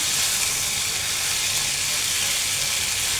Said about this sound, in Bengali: এটাকে আমি 5 মিনিটের মতো ভেজে নেব